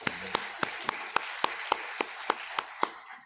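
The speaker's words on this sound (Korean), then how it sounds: "영광 박수를 드리겠습니다" Slow, sharp, evenly spaced claps ring out in a church, about a dozen crisp beats in steady rhythm, fairly near and alone, like a congregation clapping together in unison for praise.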